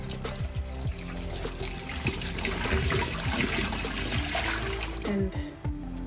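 Liquid poured from a big nozzle into a glass, a steady moderately loud stream that runs for several seconds with small gurgles and knocks.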